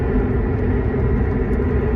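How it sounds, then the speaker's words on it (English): A steady, dense rushing roar of furnace gases flowing through a nozzle in a HeatMaster G Series furnace, loud and continuous with a low rumbling body. "It's the sound of the gases running as it passes through the nozzle."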